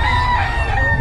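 A rooster crows loudly and close, one sustained call over a steady low rumble of background noise.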